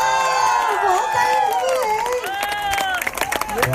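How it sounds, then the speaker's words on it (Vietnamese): An audience at a charity auction claps and cheers, with a dense wash of applause and shouts under excited, overlapping voices, close and loud throughout. "Vỗ tay"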